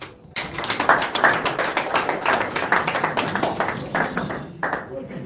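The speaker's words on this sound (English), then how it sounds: "I think the National Chairman of Labour deserves another round of applause." Applause at a joint press conference of Nigerian political parties over the 2023 election, a dense crowd clapping continuously with no clear break, under some voice activity.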